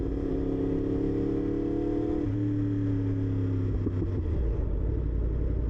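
A Yamaha R1 sport motorcycle with a titanium Akrapovic exhaust idles steadily and fairly quietly up close, a smooth continuous engine hum that drops slightly in pitch partway through, with no talk over it.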